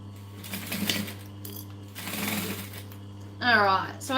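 A sewing machine stitches a fabric business bag in short bursts of mechanical whirring, separated by pauses, and a person talks over and between the runs.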